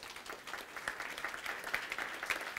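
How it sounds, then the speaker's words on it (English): Conference audience applause at the HOTHCON 2018 security event, a fairly quiet but continuous patter of many hands, with a few louder claps near the end. "Raise your hand and give Bob a big round of applause."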